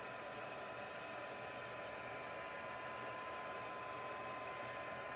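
A heat tool blows steadily while drying paint on a mixed-media craft tag, a constant loud whooshing hiss with no break and no talking.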